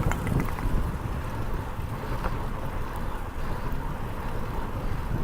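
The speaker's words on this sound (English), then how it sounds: "So as you can see, it's a pretty windy day." Strong wind on a blustery day outdoors during a bike ride, buffeting the microphone as a continuous low rumble with gusty fluctuations and no speech.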